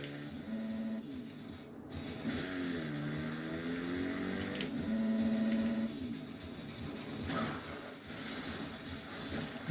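Motorbike engine from the video game MX vs ATV Reflex revving and shifting pitch through a game soundtrack, with engine whine rising and falling over a steady bed of background music.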